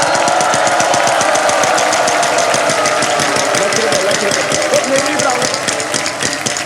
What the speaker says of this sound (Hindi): व्हील को आप घुमाएंगे।